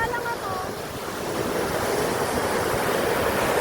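Ocean waves with a strong current surge and wash continuously at Caba Beach, La Union, Philippines, with a broad rushing roar that builds slightly and blends with gusty wind.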